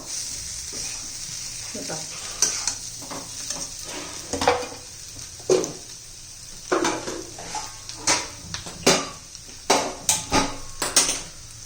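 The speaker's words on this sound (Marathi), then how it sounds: "असा व्यवस्थित आपण मसाला आणि बटाटा एक एकजीव करून घेऊया" Boiled potatoes being stirred with masala in a pan for a spicy potato curry, a soft sizzle beneath a series of sharp spoon scrapes and clinks against the pan, coming in irregular strokes, with a little talk.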